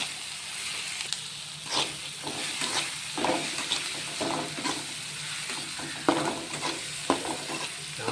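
Salted chicken pieces frying in a pan are stirred repeatedly, with intermittent scrapes and clatter over an ongoing hiss of hot oil, heard close and fairly steady.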